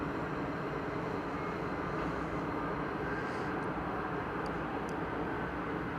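Airplane flying overhead near DFW Airport, a steady broadband engine roar at moderate distance that holds throughout, with no talk.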